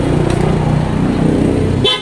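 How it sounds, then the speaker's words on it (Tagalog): An aftermarket PIAA Oto-style horn fitted to a Nissan Terra blares in one sustained, very loud blast of nearly two seconds that cuts off abruptly. "So try natin ulit yung horn niya mga boss."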